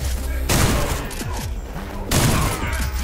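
Shotgun blasts go off in the video game SlavicPunk: Oldtimer, two loud booming bursts a couple of seconds apart, each with a rumbling tail, with a voice speaking briefly between them.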